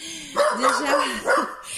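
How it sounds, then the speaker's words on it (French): A dog barks and yips in a home, a few close, high-pitched barks with whining tones, as a person speaks over it. "C'est pas la peine d'aboyer."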